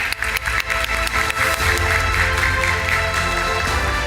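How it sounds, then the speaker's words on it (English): An audience at a halal economy leadership forum breaks into a big round of applause, dense clapping that swells and holds steady in a large hall. "Let's give them a big round of applause"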